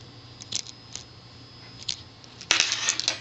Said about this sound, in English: You just trim it off.